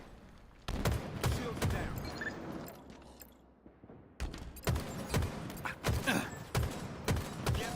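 Halo video game gunfire, clusters of loud close shots in rhythmic bursts after a brief lull, while game voice lines play between the volleys.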